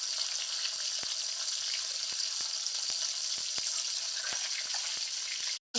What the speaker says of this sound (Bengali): এবার আমি অপর পিঠগুলিকে ভেজে নেব।